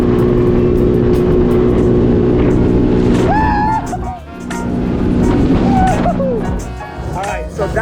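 A jet ski engine roars loud and close as it rides across water, holding a strong steady drone with wind and splashing, while someone talks over it.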